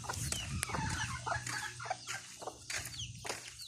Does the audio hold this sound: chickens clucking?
yes